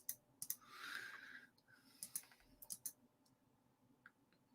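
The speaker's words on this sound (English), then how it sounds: "haphazard with my clicking" Quiet, close computer mouse clicks come in sharp scattered bursts, some in quick pairs, over a low room hiss with a brief soft breathy swell early on.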